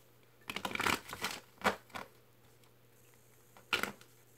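Tarot cards shuffled during a reading, giving a few short papery riffle bursts near the mic with quiet gaps between them and a faint steady hum underneath.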